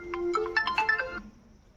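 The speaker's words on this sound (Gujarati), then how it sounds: "પેલા કોનો ફોન આવ્યો" A mobile phone ringtone in a Gujarati comedy sketch, a brief close, bright rising electronic melody of quick notes that fades out after about a second.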